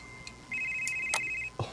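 A cellphone rings in a Cebuano-language radio drama, a steady electronic ringtone tone holding for about a second amid faint background noise, with short clicks around it.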